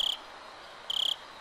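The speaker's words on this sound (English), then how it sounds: "are those crickets, maybe? Frogs? Crickets, probably." Crickets from the video game Higurashi chirp in two short, bright trills separated by a pause of quiet ambience, moderately close and alone.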